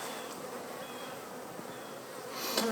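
Honey bees droning steadily at an open hive in a Nebraska beeyard while a beekeeper clears beetle pests before winter, a continuous close buzz with a brief louder swell near the end.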